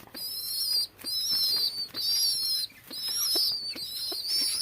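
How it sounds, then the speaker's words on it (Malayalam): A grey pigeon chick gives a string of thin, high, wavering squeals in quick bursts, close and fairly loud, with soft thumps of movement between calls and no speech. "ചാരപ്രാവാണ് കേട്ടോ, ചാരപ്രാവിൻ്റെ കുഞ്ഞാണ്"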